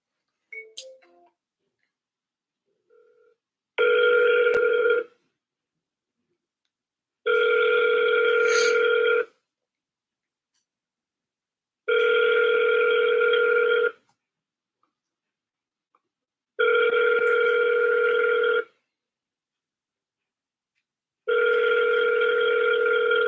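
Ringback tone of an outgoing phone call on a cold-calling session: five evenly spaced, steady electronic rings, each about two seconds long, separated by silent gaps, clear and close, with no voices.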